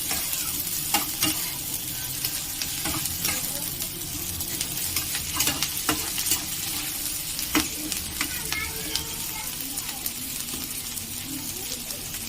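Vegetables and chopped green chillies frying in a pan, a steady crackling sizzle with repeated scraping clicks of a spatula stirring throughout, close and fairly quiet.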